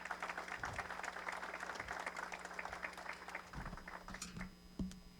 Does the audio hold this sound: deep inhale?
no